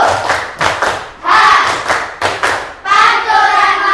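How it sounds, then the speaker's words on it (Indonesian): A group in an Indonesian classroom performs a rhythmic unity clap, tight bursts of synchronized clapping and thumps in short repeated phrases separated by brief gaps, with shouted voices mixed into the pattern. "tepuk kekompakan"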